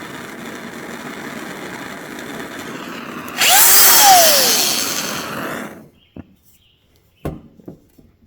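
A handheld power drill spins up loudly, whining steadily for about two seconds to twist a frayed bike cable, then winds down; short clicks and handling noise follow in a quiet room.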